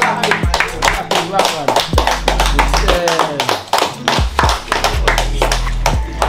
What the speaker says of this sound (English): Round of applause, team.